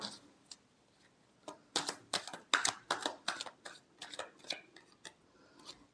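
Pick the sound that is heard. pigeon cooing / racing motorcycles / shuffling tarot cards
shuffling tarot cards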